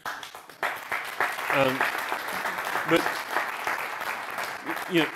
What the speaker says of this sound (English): I think we should have a round of applause for Estimote.